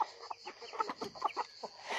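Several hens cluck and murmur in short, irregular bursts close by, a busy run of soft clucks with no talking over them.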